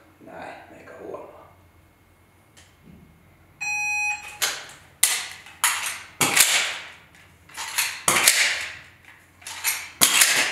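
Dry-fire pistol practice: an electronic timer beep, then a series of sharp, close clicks and knocks as a magazine is seated in the magazine well, repeated several times in a quiet room.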